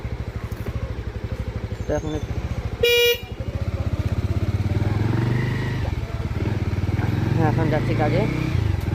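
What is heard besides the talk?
motorcycle riding on a narrow road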